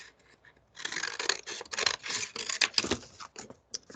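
Scissors cut a figure out of paper, close up, with a quick series of crisp snipping and rustling strokes that fade to a few faint snips at the end.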